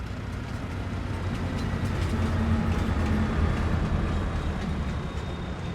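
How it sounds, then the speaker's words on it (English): A train rolls past in the video game Farming Simulator 22, a steady, loud rumble of wheels and wagons holding for several seconds without a clear approach or fade. "So we see the train come by."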